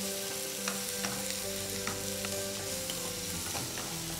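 Tomatoes and onions sauté in a pan for a paneer jalfrezi, a soft steady sizzle with faint stirring clicks, heard alone and fairly quiet.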